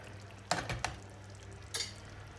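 Köfte meatballs cook on low heat with a faint, soft sizzle, broken by three sharp clinks of a utensil against the pan, all quiet and close.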